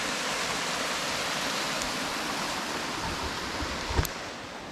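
Water rushing through a channel cut by a beaver in its dam on a late-winter woodland creek, a steady broadband wash with one brief sharper splash or knock near the end.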